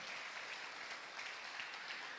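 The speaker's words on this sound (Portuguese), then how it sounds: "Pode aplaudir o Senhor." A church congregation claps during a celebration service, a steady, fairly faint wash of applause that carries on evenly throughout without any voices standing out.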